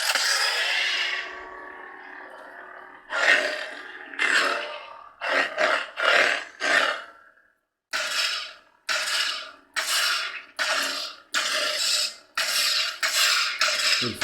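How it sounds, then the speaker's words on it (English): Custom Proffie lightsaber with a Son of Corellia sound font, playing a steady hum followed by a series of loud, rhythmic swing whooshes and clashes, over a dozen in quick succession. "This is the Son of Corellia sound font."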